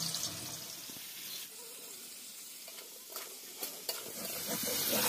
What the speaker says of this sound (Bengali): এই যে জিরেগুলো এবার ভেজে নেব। আমগুলো দিয়ে দিচ্ছি এবার।